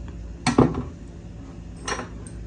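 Metal ladle scraping and clinking against a pot while scooping chicken kabsa rice, two brief clattering bursts close by with quiet pauses between, no talking.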